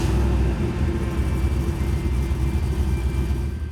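A third-generation Chevrolet Camaro police-chase car's engine runs near a shop, a steady, deep rumbling idle that holds at an even level with no voices.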